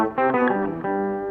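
Vox Starstream modeling guitar emulating a 12-string in octaves: a brief strummed phrase of a few chords with rich, chorus-like doubled ringing strings, loud and close.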